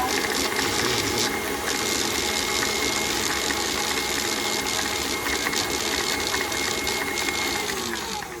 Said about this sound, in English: we're just gonna accelerate a bit to make sure that everything is whipped, and about just 2 minutes of whipping